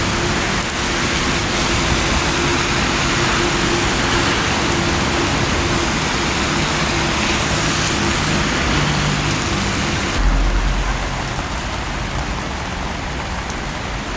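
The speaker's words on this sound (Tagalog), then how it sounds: "Grabe, ang lakas ng ulan." Heavy rain pours down on a wet morning in a constant, dense hiss, loud and unbroken, with a low vehicle rumble entering near the end and no voices.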